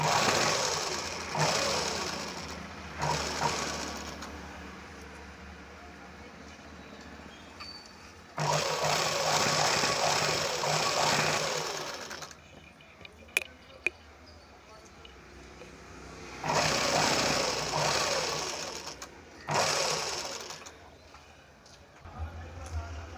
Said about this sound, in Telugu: నెక్క చుట్టూరా క్లాత్తో ఇలా కుట్టుకోవాలి